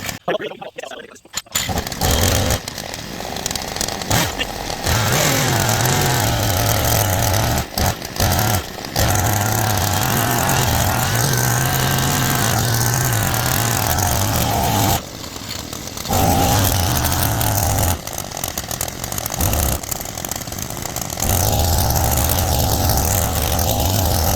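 A small Southland tiller engine runs steadily at a raised idle, a loud, continuous buzzing drone close by with a few brief dips and surges, and a voice speaking briefly over it.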